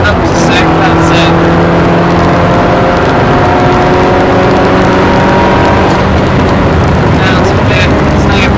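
A Ferrari accelerates hard at full throttle on the Silverstone circuit, its engine roaring loud and close from inside the car, pitch climbing through the gears as an instructor talks over it.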